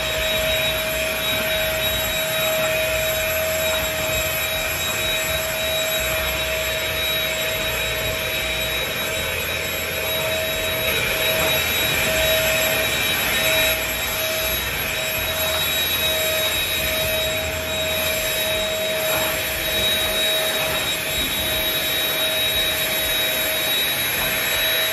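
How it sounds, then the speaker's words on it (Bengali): A household vacuum cleaner running continuously, a loud steady motor whine with a constant high tone and airflow rush, unchanging and with no voices. "আজকের জন্য আমার লাস্ট কাজ বাকি ছিল ভ্যাকুয়াম দেওয়া।"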